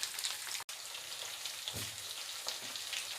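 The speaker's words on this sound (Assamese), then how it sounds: "যেতিয়ালৈকে এইখিনি ধুনীয়াকৈ ফ্ৰাই হয়" Chicken pieces fry in hot oil in a pan, giving a steady close crackling sizzle with faint pops throughout and a brief dropout early on.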